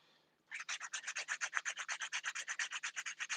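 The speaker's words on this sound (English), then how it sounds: "I like to do majority of my shaping with my hand file." Hand file shaping acrylic nails: after a quiet start, a steady run of about twenty rhythmic rasping strokes back and forth, close and fairly loud, with no talking.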